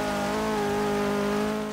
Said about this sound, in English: This car sounded incredible.